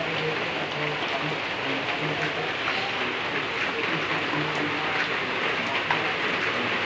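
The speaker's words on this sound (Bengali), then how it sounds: "দেখেন এখনো পড়তেছে বৃষ্টি।" Rain keeps falling over a neighbourhood after days of downpour, a constant, even wash of noise with no clear breaks, heard from indoors or nearby.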